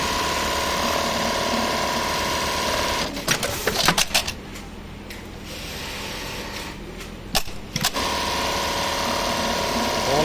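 A Brother RH-8920 buttonhole sewing machine runs in a steady, loud mechanical whir, with two short breaks where sharp clicks and clatter cut in before the stitching resumes.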